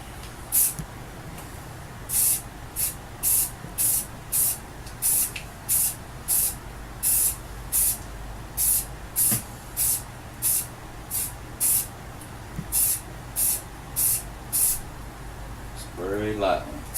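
A spray can lays light coats of camouflage paint onto a Mossberg Maverick Hunter shotgun in short, evenly spaced hissing bursts, roughly two each second, repeated many times at close range.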